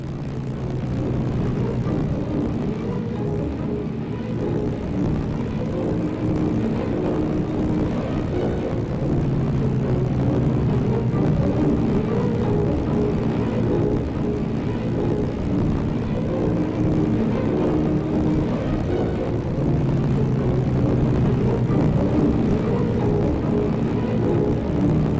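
Heinkel He 111 bomber engines droning steadily in flight, a continuous loud propeller hum with a low pulsing beat that holds unchanged throughout, no voices.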